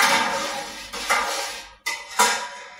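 Milk being stirred in a metal pot with a thermometer sitting inside, giving close, loud scraping and clinking in a few bursts with brief pauses between them.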